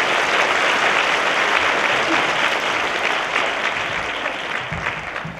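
Sustained, even applause fills a university forum lecture hall after the talk ends, a dense wash of clapping from the whole audience that fades slightly toward the close.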